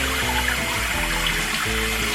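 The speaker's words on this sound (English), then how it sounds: "just put the noodles under some cold running water" Cold tap water runs over cooked noodles in a kitchen sink, a steady, loud, unbroken splashing rush with a faint low hum beneath it.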